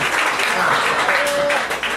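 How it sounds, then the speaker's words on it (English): Applause from a comedy club audience, a steady dense wash of clapping sustained for two seconds with a faint voice briefly audible over it. "How about one more round of applause for all the talent I'm about to give you."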